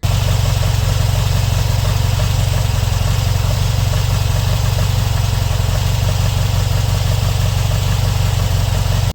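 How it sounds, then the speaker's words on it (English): A Volkswagen T2 bus engine idles with a lumpy, pulsating beat, a steady close-up rumble running unbroken and loud from start to finish. "when it's idling the revs are a bit lumpy, it's pulsating"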